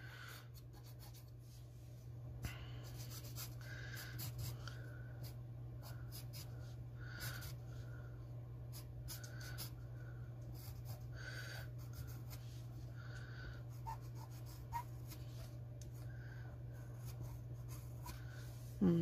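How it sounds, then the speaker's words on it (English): Pencil drawing on paper while pressing too hard, repeated short scratchy strokes with a thin squeaky tone on many of them, close and quiet over a constant low hum. "Squeaky pencil can mean you're pressing too hard, so I think I have to ease up on my pressure a little bit."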